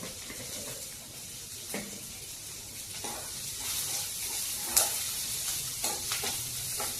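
Curry leaves and sesame seeds sizzle steadily in hot oil for an Indian idli fry, with a continuous crackling hiss broken by a few sharper pops and spatters close up. No one speaks.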